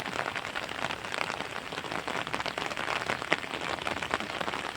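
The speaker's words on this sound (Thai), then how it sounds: "บรรยากาศฝนตก" Steady rain patters on a surface, a dense, uneven crackle of drops that carries on without pause.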